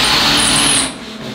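A power drill whirs into a wall during a shower cabin installation, a loud continuous grinding burst that drops off abruptly near the end, heard alone.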